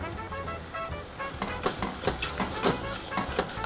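Pasta with chopped spinach and cream being stirred in a frying pan, a steady sizzle with soft rhythmic scraping and sloshing strokes, close and with no talking.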